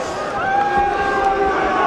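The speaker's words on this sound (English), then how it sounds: "And you hear the reaction from the crowd." A boxing crowd reacts to exchanged punches during a Johnny Tapia vs Pedro Javier Torres fight, a loud, steady roar of arena noise and babble under a ringside commentator's voice.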